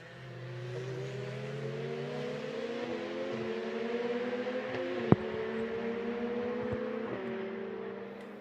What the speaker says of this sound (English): So here over the brow come the 3 KTMs, different teams.